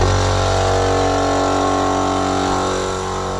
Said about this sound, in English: let's probably turn on the compressor